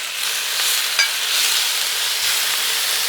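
Steak searing on an oiled Blackstone flat-top griddle gives a steady, close hiss of frying that runs without a break, with one small sharp pop near the start.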